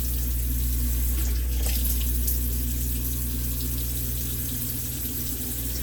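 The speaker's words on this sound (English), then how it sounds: "Straight out of the faucet on cold." Cold water runs steadily from a kitchen or bathroom faucet, a continuous hissing stream at moderate level with no pauses and no voices.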